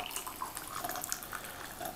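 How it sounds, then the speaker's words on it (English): Water pours into a glass in a quiet room, a steady faint splashing and gurgling stream that continues without pause. "I'm going to start this video with pouring a glass of water."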